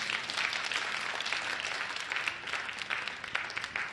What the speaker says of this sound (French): On applaudit Jésus ensemble.